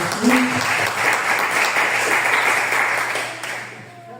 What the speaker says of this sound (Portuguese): Vamos também ouvir a obreira Raquel, vamos recebê-la com a salva de palmas para Jesus